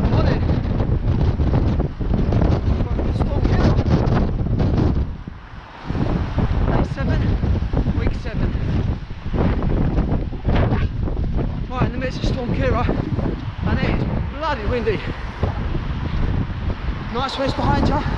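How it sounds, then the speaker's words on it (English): Wind buffets the microphone at the seashore with surf rolling in behind, a continuous broadband roar that drops briefly around the middle, while people talk over it throughout. "Nice waves behind you."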